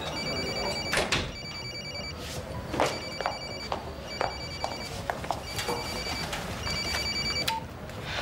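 A telephone rings indoors with a repeating electronic bell in regular bursts, fairly faint, with small knocks and rustles between the rings.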